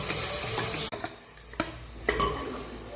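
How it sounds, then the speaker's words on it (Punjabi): A tadka fried dark brown in a pan for a rajma and potato curry, a loud steady sizzle that drops off as it is stirred, followed by scattered clicks and scrapes. "ਡਾਰਕ ਬ੍ਰਾਊਨ ਹੋ ਚੁੱਕਿਆ ਤੜਕਾ"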